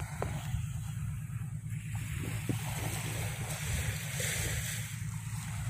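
Trawler boats towing nets off the coast of Phu Quoc Island, Vietnam, heard as a steady low engine drone from the water, mixed with surf and wind buffeting the microphone throughout.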